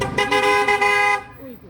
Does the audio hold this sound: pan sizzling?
no